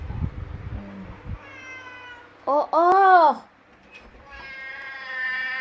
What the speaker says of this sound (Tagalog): nagtatawag yung pusa ko.